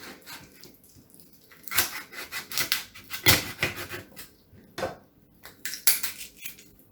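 Repeated crunching, cracking chops through chicken bones, irregular bursts at close range with quiet scraping between.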